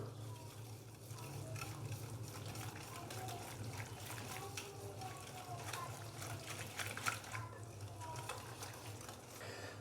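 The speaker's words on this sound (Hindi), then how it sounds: "तो अभी सारे मसालों को अच्छे से मिक्स कर देंगे।" A spice mix with soy sauce and a quarter teaspoon of zarda colour is stirred and mixed for a beef steam roast, a soft, continuous wet churning at close range with a low hum behind it.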